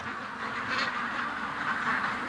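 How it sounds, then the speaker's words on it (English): A Muscovy duck calls near bulrushes, its raspy, breathy sounds fairly close and steady for a couple of seconds, with no talking over it. "I think I've got a Muscovy that's thinking that it's going to spend the night down here in the"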